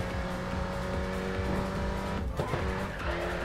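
A car engine in the mobile game Racing Master roars steadily while tires squeal in a sustained drift, with a sharper skid around the middle.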